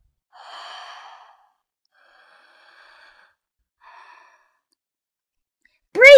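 A person breathes slowly and mindfully, with a long soft sigh, two faint quiet breaths, then a sudden loud close sound at the very end.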